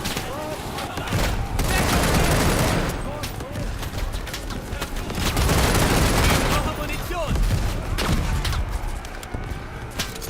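Near-constant battlefield din from the WWI game Over The Top, with dense rifle and machine-gun fire layered with booming explosions, loud and unbroken throughout.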